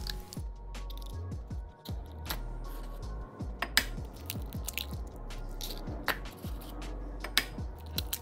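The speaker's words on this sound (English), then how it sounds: "Now beat the eggs thoroughly with a pair of chopsticks, a whisk, or a fork like I am." A fork beats four large eggs in a large bowl for Chinese steamed eggs, giving quick, fairly quiet clicks and taps against the bowl in an uneven rhythm, with no talking.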